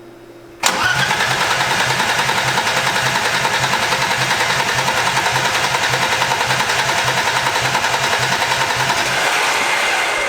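A BMW E30's M20 engine, run without an exhaust, cranks and catches abruptly, then idles loudly and unevenly with a raw, rapid pulsing chatter that holds steady for several seconds before cutting off near the end.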